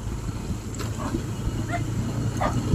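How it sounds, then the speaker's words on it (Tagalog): A puppy gives a few faint, high yips and whimpers over a loud, rumbling engine drone outdoors. "Ay, may tuta."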